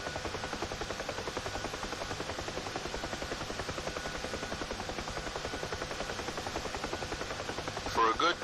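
A UH-1H Huey helicopter in flight in DCS World, its rotor making a steady, rapid rhythmic thump over a constant turbine whine, loud and close throughout, with a brief burst of other sound near the end.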